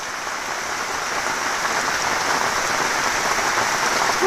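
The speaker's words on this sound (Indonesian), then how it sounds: "Semoga aja hujannya nggak lama" Steady rain falls in an even, unbroken hiss that slowly swells a little louder, heard alone without any voices.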